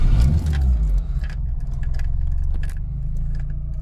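A Volkswagen Golf Mk2 1.6 automatic engine cranks briefly, catches and settles into a steady low idle rumble, with a light metallic jingle of keys near the start.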